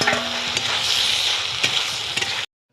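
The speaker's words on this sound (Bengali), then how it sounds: "ভেজে রাখা সয়াবিন আলুটাকে এবার দিয়ে কিছুক্ষণ পরিমাণ কষিয়ে নেব" Close sizzling and frying with scraping stirs through fried soybean chunks and potato in spices in a pan, continuous, then cutting off abruptly to silence.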